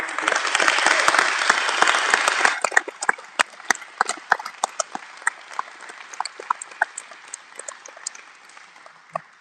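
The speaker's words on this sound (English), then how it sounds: "I think that deserves an applause." Loud, dense applause from a crowd at a public grant announcement for a couple of seconds, then thinning into scattered, fading individual claps.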